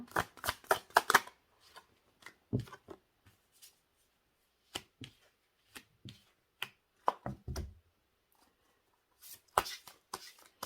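Tarot cards are drawn and handled from a deck in sharp, scattered bursts of rustling and shuffling snaps, loudest at the start and end, with quiet gaps between.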